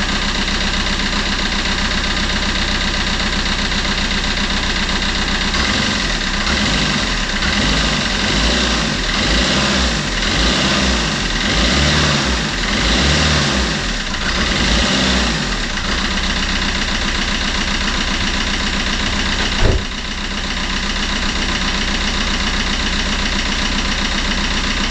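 Fiat Qubo 1.3 Multijet diesel running roughly after a timing chain refit, a loud, close idle that swells into uneven pulsing and throbbing midway, then settles back to a steady rattle after a sharp knock.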